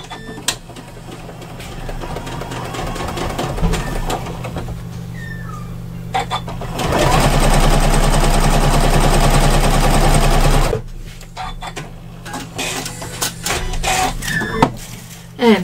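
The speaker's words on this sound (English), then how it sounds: "come through and then stitch on the other side so that both sets of stitches go in the one direction" A sewing machine stitches a fabric handle for a wire frame bag, with scattered clicks and handling noises around one loud, sustained run of rapid stitching in the middle.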